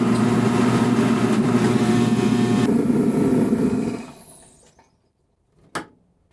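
A diesel kerosene forced air heater runs with a loud, steady fan roar that winds down over about a second and stops, followed by a short click.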